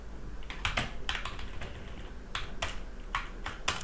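Quick bursts of keystrokes on a computer keyboard, typing out an HTML body tag, come in short irregular clusters of clicks, close and clear, with no voice over them.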